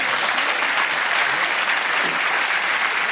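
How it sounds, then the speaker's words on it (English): A television studio audience claps continuously and evenly throughout, a dense, close, sustained round of applause with no voices standing out. "And Amanda, give them a round of applause."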